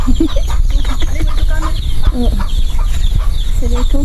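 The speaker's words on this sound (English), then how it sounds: "that chicken is so noisy." A chicken clucks noisily and repeatedly at close range on a farm in the Filipino countryside, giving a busy run of short, jerky calls over low background noise.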